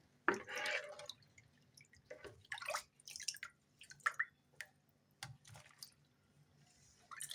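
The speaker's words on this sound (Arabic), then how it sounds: "احط عليها كمان كوباية الليمون كده اهو." A cup of lemon juice is poured over olives, giving faint, close splashes and dripping trickles in short irregular bursts with quiet pauses between them, and no one speaks.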